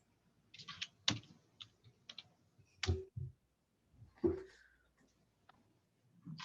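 Sparse keystrokes on a computer keyboard during a chemistry lab session at a terminal, irregular clicks in small bursts with pauses, close and fairly quiet, no talking.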